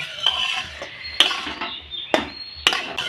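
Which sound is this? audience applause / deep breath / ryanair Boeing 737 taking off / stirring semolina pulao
stirring semolina pulao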